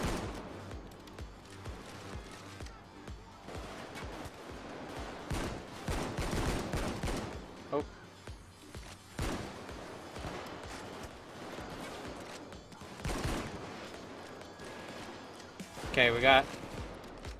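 Gunfire from the Payday 2 video game breaks out in scattered bursts and rapid volleys, with a loud cluster near the end. Players talk over much of it.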